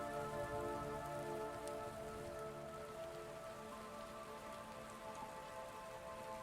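Steady rain falling and pattering on a surface, a continuous soft even hiss with no voices, accompanied by a low sustained musical drone.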